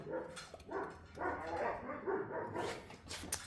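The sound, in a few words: puppies barking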